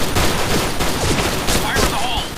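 Gunfire in the shooter game Point Blank: dense, loud bursts of rapid shots fill the whole moment, close and continuous, with a brief rising tone near the end.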